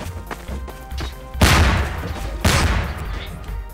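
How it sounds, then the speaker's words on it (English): Explosions go off in the Garry's Mod Melon Bomber video game, two loud booming blasts about a second apart over a noisy background of smaller bangs. "I actually avoided that explosion."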